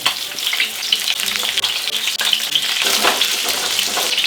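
Half-cooked Toulouse sausages heating in a frying pan sizzle loudly and steadily up close, with occasional stirring scrapes and crackles and no talking.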